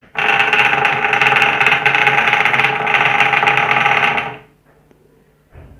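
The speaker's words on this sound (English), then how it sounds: "Now we will turn on the motor and the lamp at the same time." A small DC motor runs loudly with a buzzing, rattling whir for about four seconds, then winds down to near silence, with a brief faint restart at the end.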